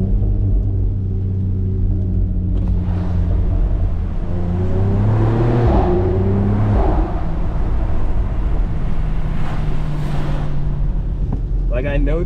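A BMW X3M fitted with a single midpipe exhaust drives through rain, heard from inside the cabin as a low, steady engine rumble with gear-change dips and road noise, while someone talks over it.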